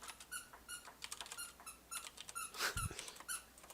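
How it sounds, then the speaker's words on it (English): A dog chews on an object nearby, making a run of faint, high squeaks and soft pattering, with one louder thump near the end. "the dog is chewing on a thing now"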